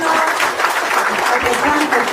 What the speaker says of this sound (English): Ladies and gentlemen, another round of applause for